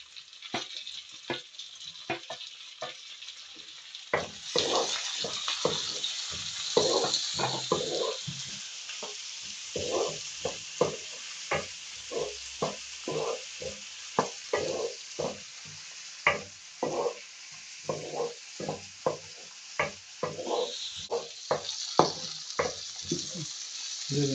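Chopped tomatoes fry in a pan for a country-style dried anchovy gravy, a steady bright sizzle with repeated scraping stirs of a spoon in an irregular rhythm, close and clear with no talking.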